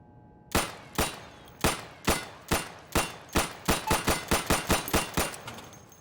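Gunfire at a training shooting range in the video game Insurgency: about fifteen sharp, loud rifle shots, spaced slowly at first, then quickening into a fast, close volley with a ringing tail after each report.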